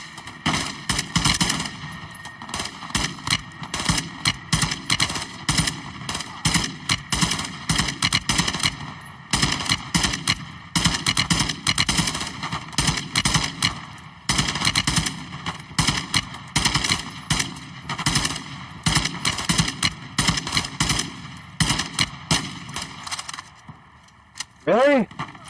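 Gunfire during a fire mission in Call of Duty: Modern Warfare 2: loud, dense automatic bursts and rapid shots run almost nonstop, with brief gaps and a final trailing pause.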